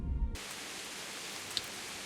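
Steady rain in the medieval open-world game Kingdom Come: Deliverance outside the gates of Talmberg, a soft continuous hiss with no voices, following a brief low rumble at the very start.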